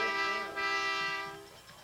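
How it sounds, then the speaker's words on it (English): A loud, sustained air horn from a Peterbilt truck blares near a 1995 high school football game between Johnson and Roselle Park, holding a steady multi-tone blast for about a second and a half before fading. "That is the air horn that you hear in the background."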